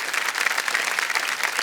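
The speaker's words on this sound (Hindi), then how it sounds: "कम ताली बज जाए इनके लिए।" A studio audience at a televised quiz show claps together in dense, even applause that runs throughout this short moment.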